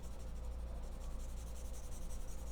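Soft, continuous scratchy strokes of a pencil shading paper while sketching a snowy landscape with an isolated house, faint and close with a steady rasping texture.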